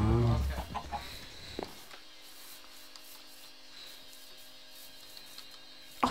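A chicken in the video game Minecraft gives a few short clucks near the start under a person talking, followed by a quiet stretch with faint game tones.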